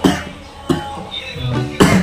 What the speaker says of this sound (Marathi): अरे बोलायला खोकला लागला